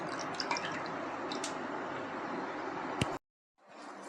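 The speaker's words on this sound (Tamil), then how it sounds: "அந்த 1 லிட்டர் வந்து இந்த பாத்திரத்தில் சேர்த்துக்க போகிறேன்." Full cream milk pours into a heavy-bottomed pan with a steady liquid splash and a few drip-like plinks. The pour lasts about three seconds, then cuts off abruptly, leaving brief near-silence before faint room noise returns.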